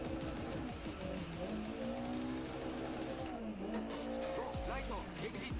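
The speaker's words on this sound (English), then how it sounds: "Engine brake." Rally car engine braking in Dirt Rally 2.0, the engine note dropping and droning loudly with tire squeal and skidding over gravel as the car slides, steady and close throughout, with a voice talking over it.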